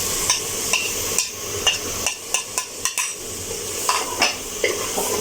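Tomato masala frying in a pan for a meat and tinda curry, a steady sizzle punctuated by a quick series of sharp spoon knocks and scrapes against the pan, close and clear with no talking.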